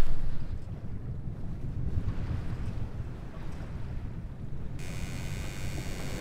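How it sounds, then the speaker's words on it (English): A sailboat motors under engine across open water near coral islands, a steady low engine drone mixing with water wash and heavy wind buffeting the microphone. "So as we're motoring around the bend to our next anchorage"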